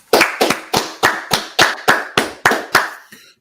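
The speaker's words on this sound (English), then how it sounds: "All right, let's clap it up." Audience clapping in unison at a religious street gathering: nine sharp, evenly spaced claps in a steady rhythm, loud and close, with no talking over them.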